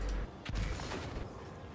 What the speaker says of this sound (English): heard an explosion in the distance